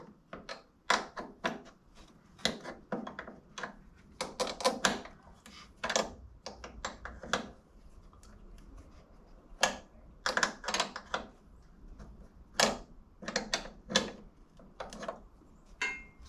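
A wrench clicks and ratchets against a nut on a John Deere 1025R compact tractor in sharp, irregular bursts of metallic taps, close and fairly quiet, with no talking.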